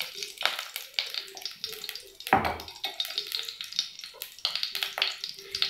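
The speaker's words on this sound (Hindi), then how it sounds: "ये हमने पैन ले लिया, इसमें हम 1 चम्मच देसी घी ऐड करेंगे।" Desi ghee melting in a pan for coconut laddoos, giving light crackling sizzles with a scrape or clatter partway through, close and fairly faint, with no voices.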